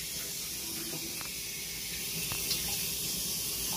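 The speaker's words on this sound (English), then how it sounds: "So I'm just going to use this shower head thing that we use for our dogs." Shower head sprays straight hot water to rinse out an aquarium, giving a steady, continuous hiss of running water close by with no voices.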